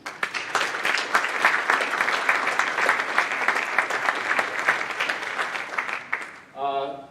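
Warm, sustained applause from an audience at a high school scholastic awards ceremony, dense clapping that holds steady for several seconds before fading, followed by a brief spoken voice.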